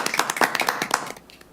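Short burst of hand clapping from a small group at a city council meeting, brisk and close, thinning out and fading after about a second.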